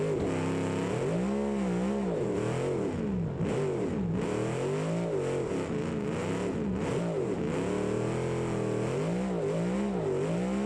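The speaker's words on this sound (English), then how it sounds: "Let's bring out a Bastion, my go-to drift car." Bastion drift car engine in the BeamNG video game, revving continuously with rising and falling pitch as the throttle is worked, loud and steady throughout with no speech.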